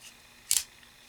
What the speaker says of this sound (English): The lock is very easy to manipulate.